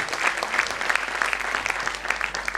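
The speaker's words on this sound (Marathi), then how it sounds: "तबल्याच्या वादनाबद्दल खास खास खास टाळ्या" A school competition audience claps steadily for a tabla performance. The applause is dense and sustained throughout, with no voices over it.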